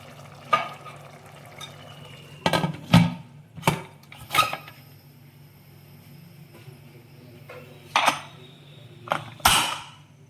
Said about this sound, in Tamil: குறைச்சிட்டு 10 நிமிஷம் மூடி போட்டு மூடிடுங்க